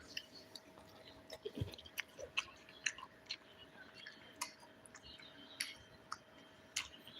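Someone quietly eats a meal of seer fish curry with rice and tapioca, with soft, close chewing and small irregular clicks of food and fingers. No one speaks.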